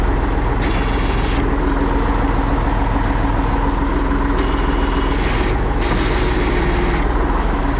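The hydraulic loader crane arm of a Ural timber truck works over a loud, steady engine rumble, with three bursts of hissing, whining hydraulic movement, the first short and the later two longer and nearly back to back.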